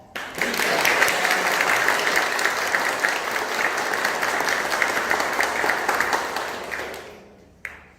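Sustained applause from a church congregation, loud and steady for several seconds before tapering off and stopping abruptly near the end.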